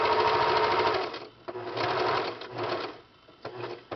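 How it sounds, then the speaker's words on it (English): A sewing machine stitches knit fabric for a fabric freeze pop holder in close, rapid whirring bursts, three main runs separated by short pauses. No one speaks. "back stitch another 4 or 5 stitches, and sew off the edge"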